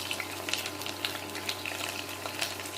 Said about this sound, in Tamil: அது ரொம்ப கருவி விடாத அளவுக்கு வெங்காயத்தை கொட்டி வதக்கணும்.